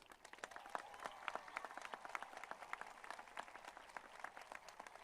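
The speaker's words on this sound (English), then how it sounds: "please give them a round of applause" Steady, distant applause from a crowd honoring recipients at a Class of 2023 high school graduation ceremony in Modesto, California, many hands clapping in a dense, even patter for several seconds.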